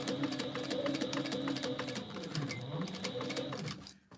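A sewing machine backstitches on a sling bag project, its steady rapid stitching hum and needle clatter running continuously and close for about four seconds before cutting off abruptly at the end.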